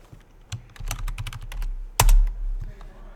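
A computer keyboard is typed on up close as a short word is entered into a Python program. A quick burst of light clicky keystrokes is followed by one louder, heavier key press and a couple of softer taps.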